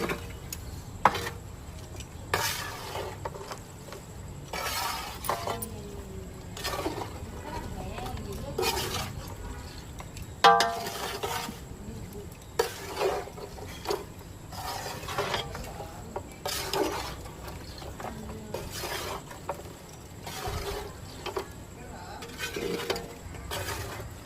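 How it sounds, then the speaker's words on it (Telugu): Lemon pickle being stirred after fresh lemon juice is added, with repeated scraping and clinking strokes of a spoon against the pot, close and moderately loud, under a voice talking. "పచ్చడి అంతా ఒకసారి బాగా కలుపుకుందాం"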